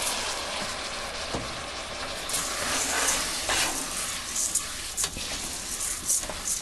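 Rice and pasta toast in a hot pan with a continuous hissing sizzle, occasional stirring scrapes and light ticks of grains moving against the metal.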